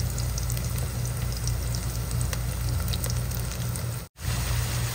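Garlic, onion and ginger sautéing with beef intestine in a pan, a steady close crackling sizzle with small pops throughout, briefly cut by a sharp dropout near the end.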